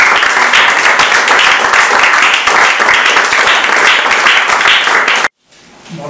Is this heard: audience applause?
yes